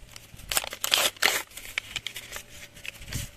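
A paper surprise packet is torn open outdoors, giving a few loud bursts of crinkling and ripping paper followed by softer rustling, close by and with no talking.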